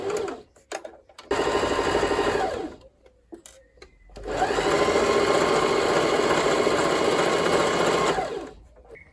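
A sewing machine runs outdoors while stitching a corset top, with a short burst of motor hum followed by a longer, steady, loud stretch of whirring after a few brief taps and pauses.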